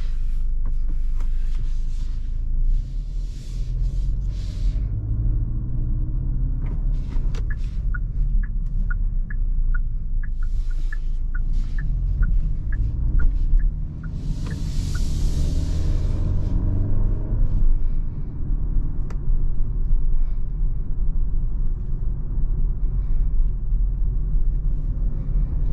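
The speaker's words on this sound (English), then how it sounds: "Let's go ahead and take this Genesis GV70 on a drive and see how it does." A 2023 Genesis GV70 drives along, a steady low road rumble and engine hum inside the cabin, joined midway by a string of evenly spaced ticks like a turn signal and brief brighter whooshes.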